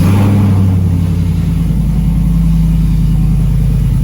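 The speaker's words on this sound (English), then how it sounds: "now we're going to go for a test drive. We're gonna go scare the neighbors." A 2014-or-later Chevrolet Silverado truck engine with newly replaced motor mounts revs and settles into a steady deep drone, loud and close, no talk.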